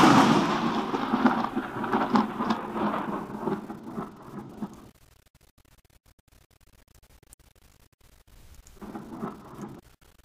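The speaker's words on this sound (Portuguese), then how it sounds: "simultaneamente a gente ouve um barulho de trovão" Thunder rumbles loud and broadband for about five seconds as a plasma-like lightning column rises, then fades to near silence before a second, quieter rumble returns near the end.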